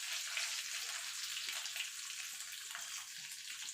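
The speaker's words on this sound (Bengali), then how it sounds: "এই তেলে দিয়ে দেবো কালো জিরা" Black cumin seeds dropped into hot oil in a pan where prawns were just fried, giving a steady, soft, hissing sizzle that stays even throughout with no talking.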